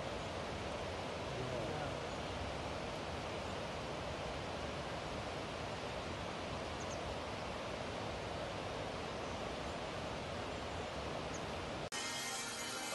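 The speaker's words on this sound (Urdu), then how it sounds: "اس سامنے میرے کو لگتے آبشار ہے کوئی" A waterfall in a mountain village in Azad Kashmir gives a constant broad rushing hiss, steady and fairly faint from a distance, breaking off abruptly near the end.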